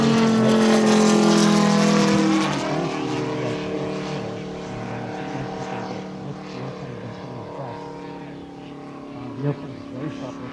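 A Moki 250 radial engine on a Carf AT-6 Harvard scale model plane at an RC flying demo, a loud throaty drone that starts strong and then fades and lowers in pitch as the plane flies away.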